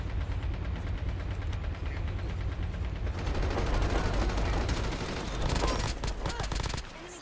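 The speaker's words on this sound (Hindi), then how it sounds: "वो पीछे से कोई स्नाइप कर रहा है" Gunfire in an online shooter video game, a rapid loud fusillade of shots rattling almost continuously, with sniping heard from behind and bursts intensifying toward the end.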